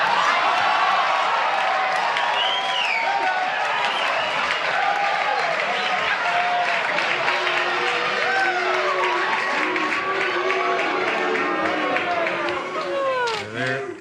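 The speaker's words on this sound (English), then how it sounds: "They're just chanting, Cher, Cher." A television studio audience on a late-night talk show chants loudly and continuously in a dense crowd roar, overlapping voices rising and falling with scattered whoops and claps.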